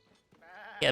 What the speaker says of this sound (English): Look at that goat.